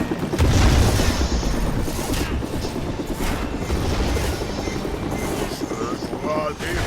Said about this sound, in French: Bah, un hélico.